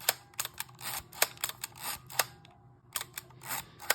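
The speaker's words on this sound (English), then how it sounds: "You know when you have fired the shutter because the red" A Chinon Bellami 35mm compact camera clicks sharply and repeatedly up close, its shutter and mechanism giving a quick run of crisp, uneven snaps with short pauses, quiet and alone.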